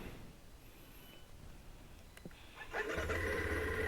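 A Kawasaki KLX230SM supermoto motorcycle sits quietly, then near the end its starter catches and the engine fires into a steady, close idle.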